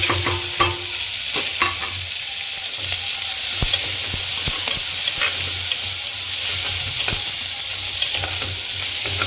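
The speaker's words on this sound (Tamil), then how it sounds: "கேரட்டையும் பீன்ஸும் நல்லா வதக்கிக்கலாம்" Carrots and beans sizzle steadily in hot oil as they are sautéed and stirred in a pan, with a constant close frying hiss and occasional soft scrapes and knocks.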